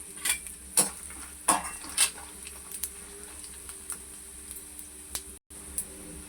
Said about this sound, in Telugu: కొంచెం వేగనిద్దాం. కొంచెం జీలకర్ర వేసుకుందామండి.